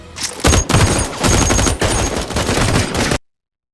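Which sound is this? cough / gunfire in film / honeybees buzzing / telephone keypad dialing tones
gunfire in film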